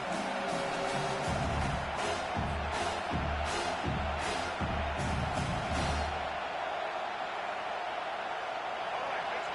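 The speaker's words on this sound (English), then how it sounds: "Decibels rising as the crowd gets behind this defense on 3rd down." A large stadium crowd at a football game roars steadily on third down, a dense continuous wall of cheering and whooping that stays loud throughout, with scattered louder bursts early on.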